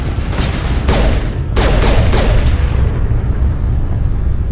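Close, loud bursts of gunfire from the video game Mass Effect: several sharp shots in quick succession over a rumbling battle background that fades to a quieter tail.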